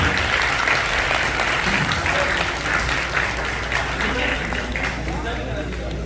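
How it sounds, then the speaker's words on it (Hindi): Sustained, dense applause from an audience at a Pakistan Independence Day celebration event, steady and loud throughout, with a low hum underneath. "भरपूर तालियां"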